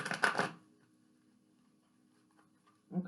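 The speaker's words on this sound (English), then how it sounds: "We're going to move to my knee for this last shuffle." Tarot chakra deck cards shuffled against a knee give a brief burst of quick papery riffling at the start, followed by near silence and a faint low hum.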